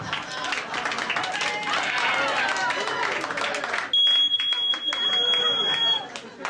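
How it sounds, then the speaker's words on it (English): Crowd noise and voices at a stand-up comedy show, then a wearable medallion smoke alarm sounds a shrill, continuous electronic beep for about two seconds, cutting through the room. "You just kind of wear this medallion smoke alarm."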